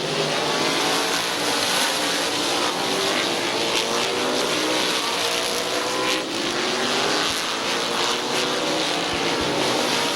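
Race cars roaring around a speedway oval, a dense continuous wall of engine noise from several cars at close range, steady and loud throughout with no talk.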